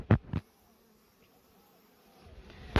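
Honeybees buzz faintly inside a hive at a honeybee sanctuary as it is opened and remodeled, a thin steady hum bracketed by a few close handling thumps and bumps.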